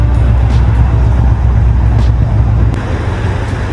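A Ford Mustang on new lowering springs drives off, its loud, steady engine rumble and road noise filling the clip from start to finish, with no voices over it.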